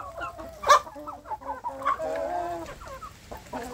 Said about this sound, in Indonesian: memvideokan kondisi anak ayam kampung saya yang ada di kandang pembesaran